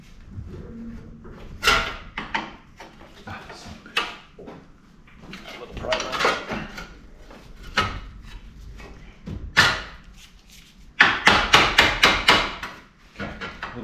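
Metal clanks, scrapes and sharp knocks from a small pry bar working parts loose around the upper intercooler of a 6.4 Powerstroke engine, close and uneven, ending in a fast run of strikes.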